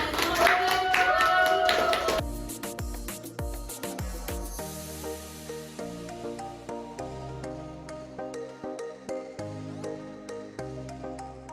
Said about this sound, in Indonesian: Benar, Beri tepuk tangan.